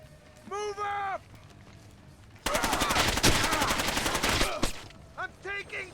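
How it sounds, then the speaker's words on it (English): Sustained automatic gunfire in Splinter Cell Chaos Theory, a loud rapid burst lasting about two seconds, bracketed by short tonal game sounds and voices before and after. "I'm taking fire."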